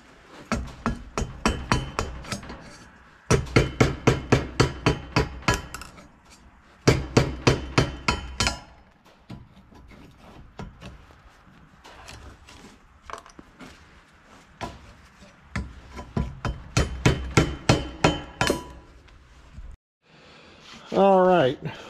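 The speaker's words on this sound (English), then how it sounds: "if you use a plastic hammer on that plastic handle, it don't damage the handle none" A plastic hammer taps repeatedly on a scraper's plastic handle during a John Deere 4840 tractor overhaul, coming in quick rhythmic bursts of sharp knocks separated by pauses, close and clear.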